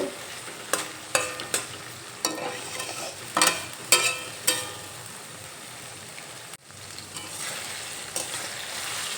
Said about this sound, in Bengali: বাটা মশলা দিয়ে একটু নেড়ে চেড়ে নেব এখানে আদা রসুন আর কাঁচা লঙ্কার কাঁচা গন্ধটা যতক্ষণ না চলে যাচ্ছে ততক্ষণ রান্না করে নেব